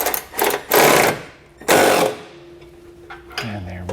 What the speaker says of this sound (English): now we'll just grab ourselves a 11mm socket and wrench and tighten those down